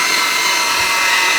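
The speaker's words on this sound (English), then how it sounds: "I have this handy dandy bandsaw, guys." A handheld bandsaw cuts through smoked ribs in a short, steady burst of loud, close buzzing noise with no pauses.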